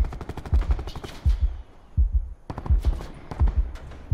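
Rapid bursts of automatic gunfire in a Call of Duty Black Ops match sound in quick repeated volleys, loud and close, with short pauses between bursts.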